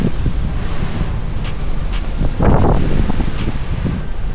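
Strong typhoon wind roars continuously outside a house in Vigan City during a power outage, a loud broadband rush with gusts swelling and buffeting the microphone, no talk over it.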